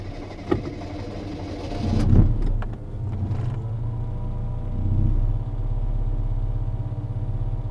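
A car engine cranks and catches after an electric fuel pump is installed: a short click, then the engine fires around two seconds in and settles into a steady, close, low idle rumble.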